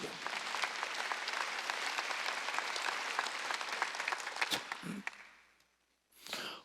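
Church congregation clapping during a Korean Wednesday worship service, a dense, fairly loud burst of hand claps for about five seconds that fades out, followed by a short noisy rustle at the end.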